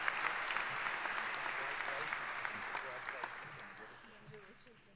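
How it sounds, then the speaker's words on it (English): An audience at an engineering school senior recognition ceremony gives sustained applause that slowly tapers off, with a speaking voice faintly underneath. "please hold your applause until our last student has been recognized"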